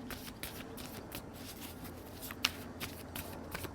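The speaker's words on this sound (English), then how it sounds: "lots of cards coming out" A deck of tarot cards is shuffled continuously and close up, with a rapid, riffling patter that carries through the clip and one sharper snap partway.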